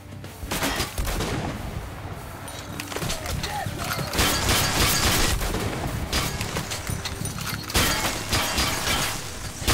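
Dense gunfire in the Metro: Last Light video game, rapid overlapping shots and bursts that carry on almost without a break, loud and close, with a voice talking now and then underneath.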